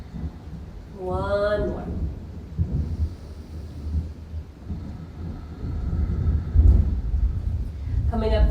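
Thunder rumbles on and off through a storm, a low, rolling boom that swells near the middle and end, with a brief spoken word and some quiet talk over it.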